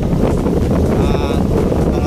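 Strong wind buffets the microphone continuously aboard a boat at sea on rough water, a dense roar of rushing air with faint engine drone beneath.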